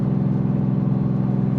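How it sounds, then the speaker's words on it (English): A steady, loud low-pitched engine drone with a rapid pulsing chatter from a truck's Jake brake holding throughout, in Fort Pierce, Florida. "it gives you a chance to listen to your Jake brakes a little bit"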